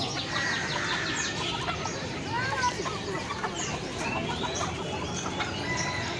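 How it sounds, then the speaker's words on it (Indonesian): Serama chickens cluck and chirp over a steady background of crowd noise and indistinct voices at an animal market in Yogyakarta, the calls scattered and moderately close. "Ayam serama juga ada."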